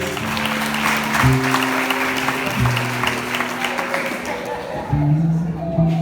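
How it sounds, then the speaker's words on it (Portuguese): A church congregation at a Presbyterian family service claps together for the Lord, a steady wash of applause with a sustained organ or keyboard chord droning beneath and shifting pitch. "aplaude o Senhor mais uma vez"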